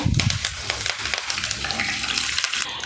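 Curry leaves crackle and sizzle in hot tempering oil for a potato and spinach dish, a dense close frying hiss with sharp spits and crackles throughout, no talking.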